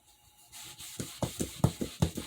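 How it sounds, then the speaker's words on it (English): Knife sharpening stone being cleaned by rubbing, starting with soft scrubbing and building into a series of about seven rhythmic, louder scraping strokes, close up and with no talk. "We're going to clean the stone."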